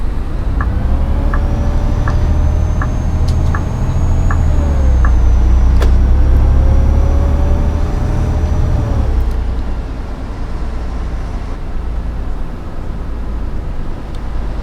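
A Volvo B7TL ALX400 bus in Faresaver livery is driven in the OMSI bus simulator. Its engine drones loudly and steadily with a whining tone and a few clicks and knocks, then eases to a quieter idle after about nine seconds.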